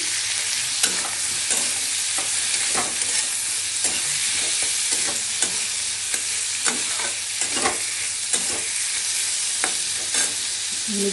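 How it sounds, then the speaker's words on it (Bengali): Steady loud sizzling of vegetables frying in a pan with salt and turmeric, with repeated scraping stirs at irregular intervals and no talking. "হলদি দিচ্ছি, দিয়ে ভেজে নিচ্ছি"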